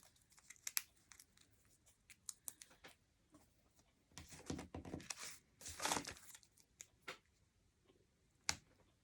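Foam dimensional adhesives being peeled and pressed onto a handmade Stampin' Up snowman card: quiet close crinkles, snaps and tearing taps of backing paper, with a busier burst of rustling midway and a sharp click near the end.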